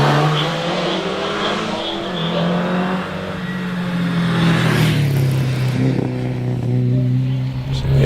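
An MGB Roadster climbs the Prescott hillclimb course at speed, its engine drone loud and sustained throughout, pitch rising and dipping through gear changes, with crowd or commentary ambience faintly underneath.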